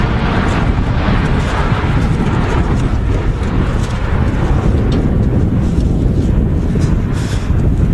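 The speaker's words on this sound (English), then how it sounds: "it sounds like it's more windy down there where you are than it is up here" Strong wind at Manchester Airport roars and buffets a microphone in a loud, dense, continuous rush for the whole stretch, with no clear talk.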